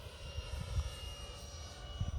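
A Durafly DH 100 Vampire RC model airplane's small engine drones steadily at a distance with a thin high whine, wind rumbling low underneath; no one speaks.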